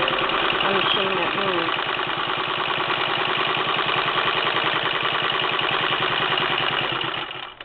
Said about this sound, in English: You can hear the power in the motor on this.